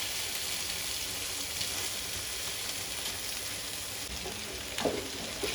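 Chicken pieces frying in spicy masala and oil in a pan, a steady close sizzle that runs without a break, with a few faint stirring clinks near the end.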